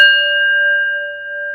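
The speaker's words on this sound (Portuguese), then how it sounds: "A gente bate o sino" A single struck bell rings out with a clean metallic strike and then a long, steady, sustained tone that hangs evenly without fading much, heard alone and up close.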